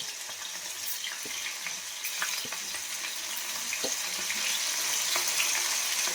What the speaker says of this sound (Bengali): দেখছেন তেল কিরকম ফুটছে, দেখুন।